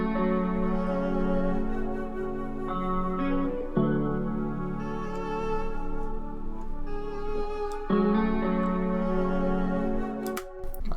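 A guitar beat runs through Soundtoys MicroShift chorus plus delay and reverb, with sustained, echoing guitar chords shifting in repeated phrases over a steady level and no voices.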